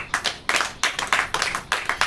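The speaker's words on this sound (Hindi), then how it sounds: "ताली बजाइए इसके लिए।" A church congregation claps during a sermon, a brisk, steady run of close, loud hand claps in quick rhythmic bursts.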